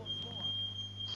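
A smoke detector gives a steady, shrill, high-pitched electronic beep that runs continuously, heard indoors in the background.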